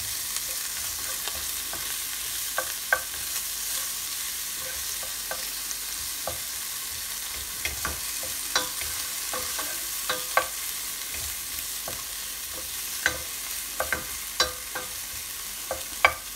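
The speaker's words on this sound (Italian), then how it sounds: "Adesso possiamo inserire i nostri funghi." Porcini mushrooms fry in a pan with onion, a steady soft sizzle broken by repeated scraping clicks of stirring, no voices.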